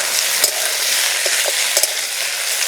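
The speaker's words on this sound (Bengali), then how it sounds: "উশি ভাজার সময় উনুনের জাল বাড়িয়ে দেব" Young ushi beans frying over a high flame send up a loud, dense, continuous sizzle close by, punctuated by several quick clinks and scrapes of stirring.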